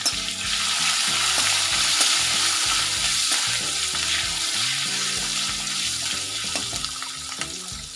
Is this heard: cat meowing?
no